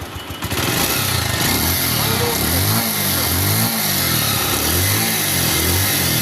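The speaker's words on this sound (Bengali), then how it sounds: "ভাই, এখন বাইকটি আপনাদের স্টার্ট করে দেখাবো।" A used Bajaj Pulsar 150cc motorcycle engine catches after a brief start attempt, then settles into a steady, close, throbbing idle with slight wavering in pitch.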